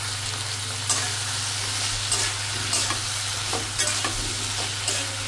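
Beans with green chilli and ground spices are stirred in a frying pan, giving a loud steady sizzle with repeated scraping strokes of the spoon, and no one speaks.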